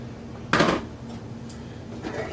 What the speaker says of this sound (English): Let's take this spatula off